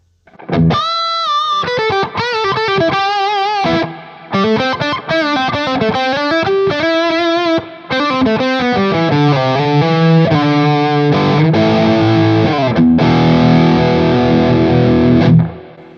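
Electric guitar played straight into a BluGuitar AMP1 on its creamy, fat, high-gain Modern channel, a loud distorted tone running melodic lines and held notes with brief gaps, ending on a sustained chord, no voices.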